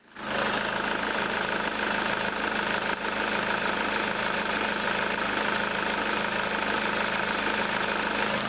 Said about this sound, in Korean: 네, 엔진 소음도 한번 들어보시도록 하겠습니다.